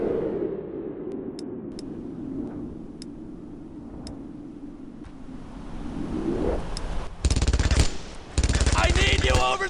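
MG42 machine gun fire in the World War II shooter Brothers in Arms: Earned in Blood, sharp isolated shots early giving way to loud sustained bursts of rapid automatic fire in the final seconds, with background battle din.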